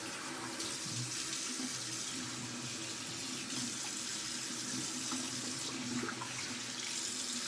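Water runs steadily from a bathroom tap as a Vincent VT-1321 shavette is rinsed after a shave, a constant close hiss and splash with no talking.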